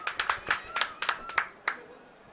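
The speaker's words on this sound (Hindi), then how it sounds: "सारे बच्चे बहुत खुशी होके ताली बजा रहे हैं" Children clap with joy celebrating the Chandrayaan-3 moon landing, a burst of about a dozen sharp irregular hand claps, fairly close, tapering off within two seconds.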